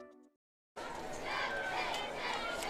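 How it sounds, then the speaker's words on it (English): A large homecoming crowd at a Wall Hawks high school football game murmurs and cheers in a broad, steady roar after a brief silence, with many voices chattering at a distance. "the homecoming crowd here in Wall is very happy"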